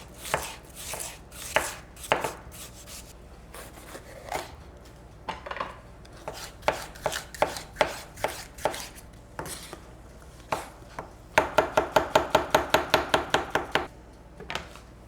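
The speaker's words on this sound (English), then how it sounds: "I'm just breaking the meat. I'm just making it in smaller pieces so it's easier to chew and eat on them." Steak meat broken into smaller pieces in a pan for a steak and cheese sub, heard as sharp close knocks in irregular bursts, then a fast rhythmic run of chops near the end, with no voices.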